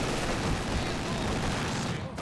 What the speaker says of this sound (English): Heard a landmine detonation somewhere